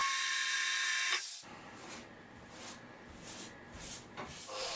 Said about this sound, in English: I pre-drill for the screws.